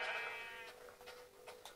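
A sheep in Minecraft on Xbox 360 lets out one short, quavering bleat, heard alone and fairly faint, followed by a few light clicks.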